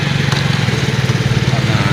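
A motorbike engine putters steadily up close in Karachi street traffic, a continuous mid-pitched drone running the whole moment, with a voice talking over it.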